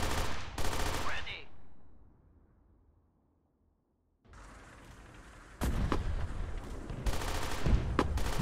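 A Tank Squad video game battle with artillery support against entrenched Soviet infantry, AT guns and tanks brings loud bursts of gunfire and booming artillery. A short fade to near silence comes before sustained heavy firing resumes.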